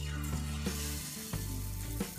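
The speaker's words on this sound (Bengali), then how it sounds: "তেলটা গরম হয়েছে কিনা সেটা বোঝার জন্য আমরা প্রথমে আঙুল দিয়ে একটু ছেড়ে দেখব।" Jalebi batter drops into hot oil in a Bangladeshi home kitchen to test the frying heat. It gives a soft, steady sizzle with a few brief bubbling pops, close and quiet, with no voices.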